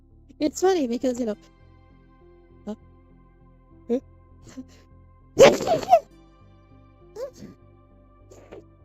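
A single loud sneeze bursts out midway, sharp and close, amid casual conversation with voices talking before and after it.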